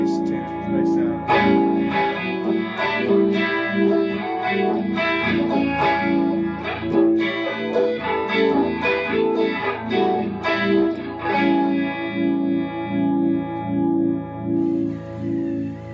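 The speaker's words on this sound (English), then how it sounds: "It's got the compressor, the Fox Aqua Vibe, little reverb, short delay, and it's a nice tune, nice sound." Electric guitar played through a compressor, Fox Aqua Vibe, light reverb and short delay on an Analog Man custom pedalboard, a melodic passage of sustained, shimmering notes with steady picking, close and loud throughout.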